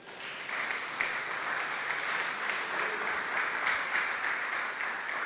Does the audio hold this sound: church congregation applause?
yes